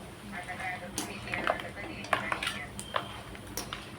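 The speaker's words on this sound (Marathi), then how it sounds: "चांगलं हलव त्याला, लाल होऊ दे मस्त खमंग" Peanuts frying in oil for Diwali chivda, stirred in a pan with clinks and scrapes of a spoon against metal, under someone talking nearby.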